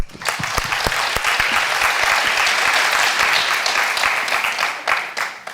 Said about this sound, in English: Please give our distinguished panelists another round of applause